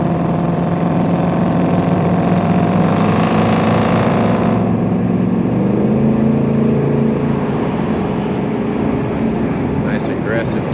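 A 2024 Ford Mustang Dark Horse with its 500 hp Coyote V8 accelerates in sport mode, its exhaust rising to an aggressive drone, then easing off as the revs drop, heard from inside the car.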